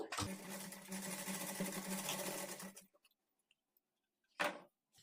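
Sewing machine stitching a marked line down the middle of fabric for latkan tassels, running loud and steady for nearly three seconds, then silence and one brief clunk near the end.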